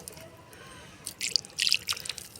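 Water is poured over soil sown with coriander seeds, a brief close patter of drips and splashes after a quiet moment, with no talking.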